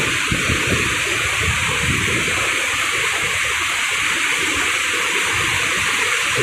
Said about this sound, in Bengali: কত সুন্দর পানির শব্দ